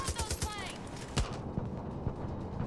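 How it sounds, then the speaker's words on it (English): Gunfire aimed at the player in the video game Far Cry 5: a rapid volley of close shots, then a sharp single crack and scattered later reports, with voices over the sound. "Who is shooting me?"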